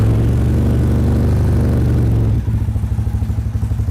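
Carbureted Triumph Bonneville motorcycle engine, loud and close: a steady revved drone that drops into a low, deep, pulsing idle burble with an even rhythmic beat, no voices over it.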